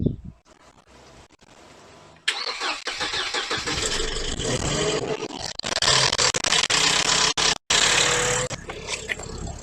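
A supercharged Mercedes W203 car engine cranks briefly after near silence, then catches and runs close and loud, with uneven revving and a short dropout before settling again.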